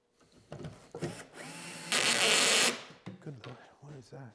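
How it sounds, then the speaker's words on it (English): A power drill drives screws into a wooden steam box for bending wood, with one sustained loud whir in the middle and shorter bursts around it, close by and mixed with someone talking. "So then I'll just throw a few of these screws in just so we can see it."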